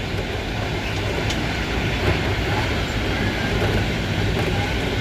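An Amrit Bharat Express rolls along the rails, heard from inside a carriage as a loud, steady rumbling roar with faint rhythmic clatter underneath and no voices.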